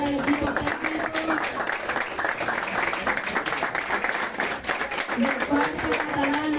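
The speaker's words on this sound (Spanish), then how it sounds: "Fuerte los aplausos para el equipo técnico" Dense, steady applause from a crowd at a football club's season presentation for the Asociación Albirrojita de Cataluña, with scattered voices and a faint tonal line underneath, continuing at an even level throughout.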